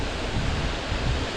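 Salt Creek Falls, a tall waterfall in Oregon, roars as a steady, dense broadband rush with no breaks, loud and continuous throughout.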